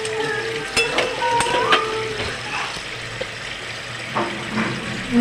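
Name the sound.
stirring chhana curry in a pan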